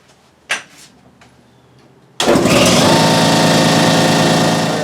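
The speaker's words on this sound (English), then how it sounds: "I'm not sure what my air tank's down to. Let me turn it on." An air compressor for an air tank, used during intake manifold and timing cover gasket work on a 2009 Buick LaCrosse, kicks on abruptly after a brief clatter and then runs as a loud, steady motor drone.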